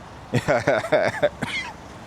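A person coughs several times in quick, harsh bursts close up, followed by a short throat-clearing.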